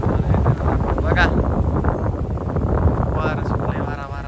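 Wind blows steadily outdoors on a farm in the evening, a constant loud rushing that buffets the microphone throughout, with faint voices underneath.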